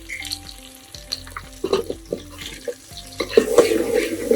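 Tempering of turmeric, asafoetida and salt in hot oil for a green leafy vegetable dish, a close crackling sizzle with repeated spoon clinks and scraping, growing louder toward the end.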